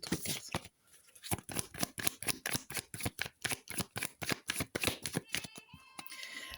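Tarot cards being shuffled up close: a quick, steady run of crisp riffling clicks and flutters that thins out toward the end, with no one talking.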